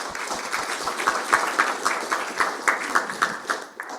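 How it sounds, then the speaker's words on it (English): Brief audience applause at an AI bootcamp on pancreatology, a moderate patter of clapping from a modest group, fairly even and fading toward the end, with no talk over it. "acknowledge and thank and applause the AV team, Nathan and Eric"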